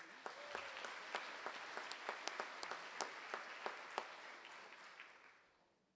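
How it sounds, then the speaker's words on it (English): An audience at a college all-employee meeting applauds, a sustained burst of clapping with distinct sharp individual claps standing out over the crowd before fading away toward the end. "give her a round of applause, please"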